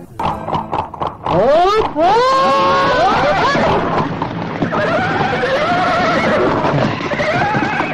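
A horse lets out a loud, close whinny that rises and then warbles down, followed by further neighing over a busy, noisy background.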